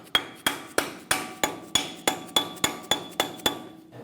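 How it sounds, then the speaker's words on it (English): About a dozen sharp, evenly spaced taps from a rubber mallet seating a cap into a Ford E-350 Super Duty front brake caliper, close and clear with no talking. "Take the cap and tap it in. I recommend a rubber mallet"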